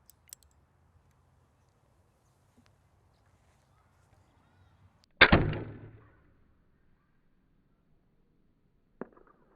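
A white arrow shot from a bow at a 60-yard target lands with one sharp, loud impact thwack in otherwise near-silent surroundings, followed by a faint click a few seconds later.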